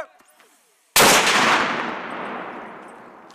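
A mortar fired by 173rd Airborne Brigade soldiers during a call-for-fire drill: a single sudden, very loud blast after near silence, followed by a long rumbling decay.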